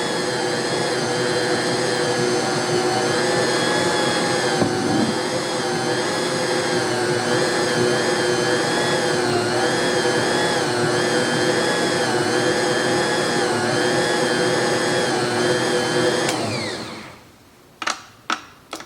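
A stand mixer kneading dough whirs loudly and steadily for a long stretch, its motor pitch wavering slightly, then winds down into a few quick clunks.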